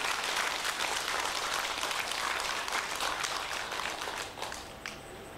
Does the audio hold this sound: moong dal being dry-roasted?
no